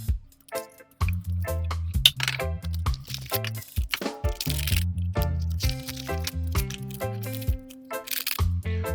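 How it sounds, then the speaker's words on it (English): A can of pineapple being opened and its contents poured into a bowl with pudding mix, heard as crinkling, squishing and wet dripping bits under a steady tonal hum. "we're going to open up our can of pineapple. We are going to put the whole thing in here"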